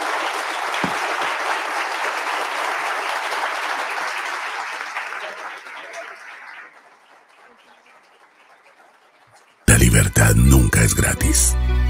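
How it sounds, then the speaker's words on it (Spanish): Strong applause from a large audience at a talk fills the first several seconds, then fades away into near quiet before a loud burst of other sound cuts in abruptly. "Nos despedimos de Agustín con un fuerte aplauso"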